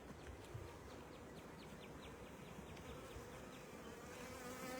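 Honey bees buzz continuously while being installed into a hive, a soft, dense drone of many insects with individual bees zipping past close by.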